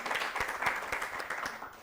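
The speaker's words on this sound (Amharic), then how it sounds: "በደንብ አድርጋችሁ አጨብጭቡላት።" Audience applause in a studio during a televised children's quiz contest, a moderate burst of distinct claps with a quick irregular rhythm, fairly close and unbroken by talk.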